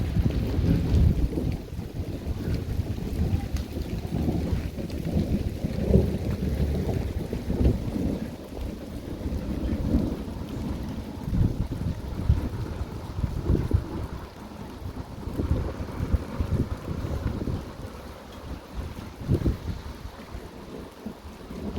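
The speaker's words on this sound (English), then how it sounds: "We're now on 18 minutes of constant thunder" Thunder rumbles without pause through a heavy thunderstorm, deep rolling booms overlapping one another for the whole stretch, loud and close, with rain and wind noise buffeting the microphone.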